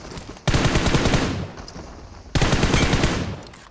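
P90 gunfire in a video game: two long sustained automatic bursts, loud and close, the first running about a second, the second starting after a short pause, with no talk over them.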